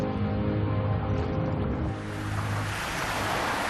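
Ocean surf washes in a broad, rising roar, loud and close, after a sustained low musical drone.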